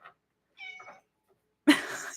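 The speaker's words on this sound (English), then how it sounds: "Everyone say hi to the kitty." A pet cat gives a couple of quiet short meows close by, followed by a louder, rougher meow at the end.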